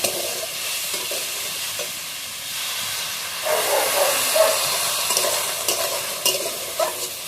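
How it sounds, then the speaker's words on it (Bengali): Potato curry stir-fried in a pan with a splash of water, a continuous hiss and sizzle that swells into louder bubbling steam partway through, with occasional stirring clinks and no voices. "আলুটা ভালোভাবে কষিয়ে নেব। দিয়ে দেবো হালকা করে একটু জল, মশলাটা যাতে না পুড়ে যায়।"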